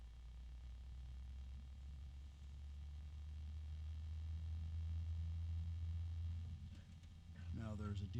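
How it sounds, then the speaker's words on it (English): A Gui And Jing GAJDM12025B 120mm 2-pin computer fan gives off a steady, deep droning hum with a soft airy whoosh of wind. It stays fairly quiet and constant, and a voice cuts in briefly at the end. "Now there's a deeper hum from the wind."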